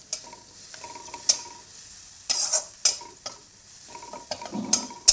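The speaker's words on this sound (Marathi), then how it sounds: "हिरवी मिरची, अद्रक, लसूण याची पेस्ट करून घेतलेली, ती पण छान परतून घ्यायची। सारखं असं हलवत राहायचं।" Green chili, ginger and garlic paste sautés in a pan while being stirred constantly, a low sizzle broken by repeated sharp metal spoon scrapes and taps against the pan, close up.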